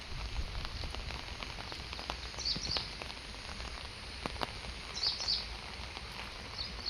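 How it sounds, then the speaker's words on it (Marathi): Heavy rain falls at a riverbank as a steady, fairly quiet hiss with scattered pattering drops and faint bird chirps now and then. "भरपूर पाऊस चालू आहे।"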